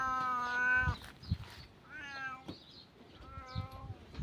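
A cat meows three times, long drawn-out cries with short pauses between, over faint background rustling.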